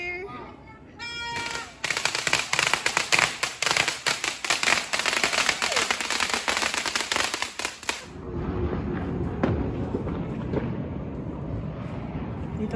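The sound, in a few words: New Year fireworks and firecrackers exploding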